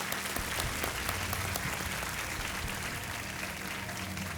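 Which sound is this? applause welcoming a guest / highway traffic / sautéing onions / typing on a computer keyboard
applause welcoming a guest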